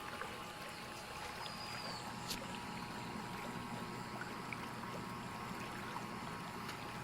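Water trickles softly and continuously in a paludarium, fed through tubing from a pump into a cut water bottle, a faint, steady splashing trickle heard up close.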